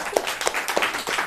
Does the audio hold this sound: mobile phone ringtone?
no